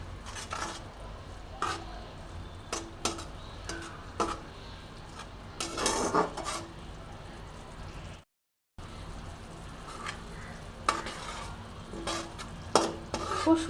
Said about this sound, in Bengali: এবার ভালো করে আমরা এটা মিশিয়ে নেব